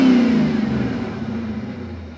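A barn-find Corvette C4 that sat for a decade revs its engine once nearby, then the pitch slides down as it drops back toward idle, loud and close with no voices.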